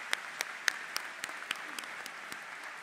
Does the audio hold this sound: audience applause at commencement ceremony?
yes